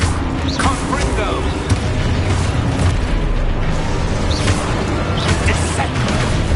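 Heavy, continuous rumbling blasts and crackling bursts from Confringo fire spells in the wizarding game Hogwarts Legacy, loud and dense throughout, with shouted spell names and gameplay chaos layered over the booming explosions.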